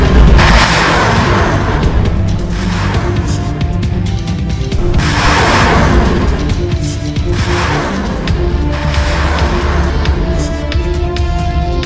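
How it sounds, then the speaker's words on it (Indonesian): Astros and HIMARS rocket launchers fire during a live-fire military exercise, sending out a string of loud booming whooshes that roll and overlap continuously, each launch swelling and fading into the next. "Akhirnya, Satuan Penembakan Roket Astros dan HIMARS melaksanakan penembakan roket."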